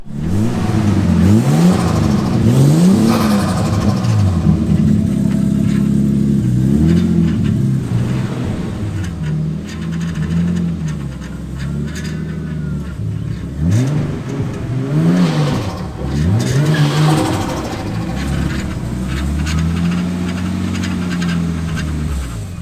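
A Nissan R32 engine fires up and revs hard again and again, loud and close, with rising and falling throttle sweeps, then tyres skid on a driveway. No one speaks.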